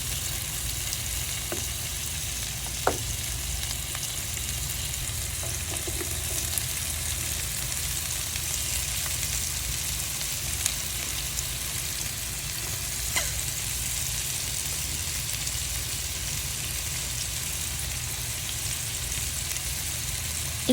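Chicken gravy seasoned with turmeric and salt frying in a pan: a steady, even sizzle holds for about twenty seconds, broken by a few sharp taps and scrapes as it is stirred.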